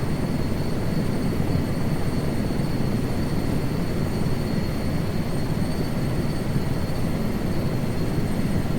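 An Erickson S-64F Aircrane helicopter in Microsoft Flight Simulator 2024 produces a dense, steady rotor and turbine roar that holds constant and loud throughout.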